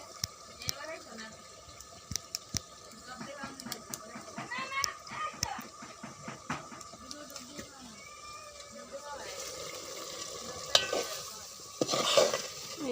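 Water lily stems cooking with potato in a pan are stirred, soft scraping and clattering strokes over a faint sizzle, with a voice and children's chatter in the background.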